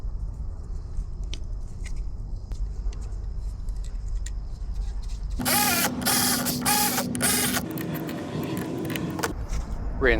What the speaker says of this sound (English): you'll see me secure the 3 nuts to the rectifier holder